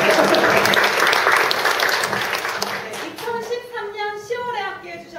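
Applause from an event audience honoring a former female company head, dense clapping loud for about three seconds, then thinning as a voice begins speaking over the tail.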